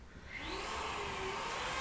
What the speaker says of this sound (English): The vacuum's on.